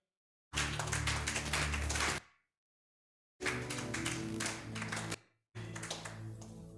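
A church congregation bursts into applause in three separate rounds of dense, even clapping, each lasting a couple of seconds and stopping abruptly, with silence between.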